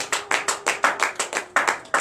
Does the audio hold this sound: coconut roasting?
no